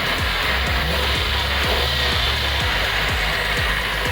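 A 2010 Chevy Monza engine with MAP and TPS sensor faults runs with a steady hum as the throttle is worked, under a hissing wash and regular pulsing thumps.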